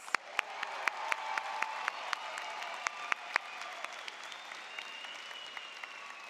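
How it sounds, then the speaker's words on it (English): A seated audience at a law school spring commencement claps in a light, sparse round of applause with distinct individual claps in a large hall, fading gently over several seconds. "Let's get another round of applause."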